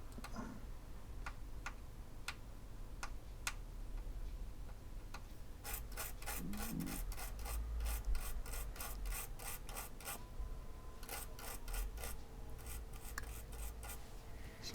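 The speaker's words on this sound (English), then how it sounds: "Just want to try and get this in here, scrape some of this coating off, just to try and get back to some of the metal." A craft knife blade scraping corrosion coating off an Xbox One S circuit board, with dry, close scratching strokes, first sparse, then in quick repeated bursts, quiet and with no talking.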